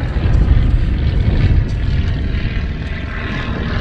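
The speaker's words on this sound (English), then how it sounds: "Nice plane overhead. Ruin my shot. It's a plane." Propeller airplane flying overhead near a beach in the morning, a loud continuous droning roar that fades slightly across the few seconds, heard alone with no talk.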